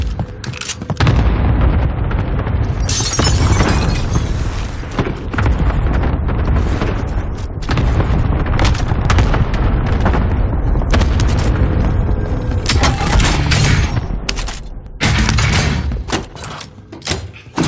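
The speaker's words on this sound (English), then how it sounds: "Cluster strike is active" Cluster strike explosions in the game Call of Duty Warzone, a loud, continuous barrage of heavy booms and blasts rolling one after another, close and dense, with gunfire mixed in and no talking over it.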